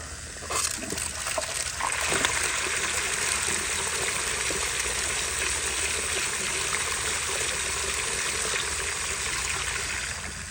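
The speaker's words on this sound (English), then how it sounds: "Wow, even on weaker pressure, it managed to take 2 full-size sheets of paper towel." Miniature prototype Berlin-style toilet, 10 inches, flushing two full-size paper towel sheets on weaker water pressure; a steady close rush and gush of water running for several seconds with no talk.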